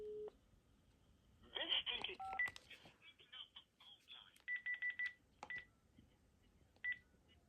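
An AT&T 213 telephone dials out while placing a call, giving a quick run of close touch-tone beeps in short clusters, with a few other beeps and faint line noise around them.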